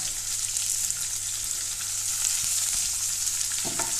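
Onion and green chilli frying in a pan for Goan home cooking, giving a steady, close, even sizzle throughout, with a brief utensil clatter near the end.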